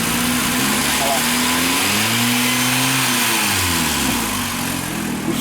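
The engine of a Fiat Linea with a cold-engine noise fault revs up as it is accelerated in a workshop, a loud mid-pitched rise and fall in engine speed heard close by.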